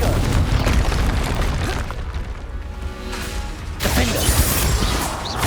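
Confringo fire spell explosions in Hogwarts Legacy, booming blasts with crackling bursts, a loud impact at the start and another about four seconds in amid game combat noise.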